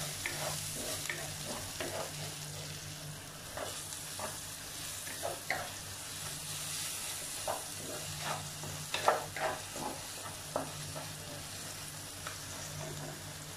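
Ginger and garlic sauté together in a pan for a Kerala sardine curry, a soft steady sizzle broken by scraping spoon stirs at irregular intervals, close and moderately quiet, with no talk.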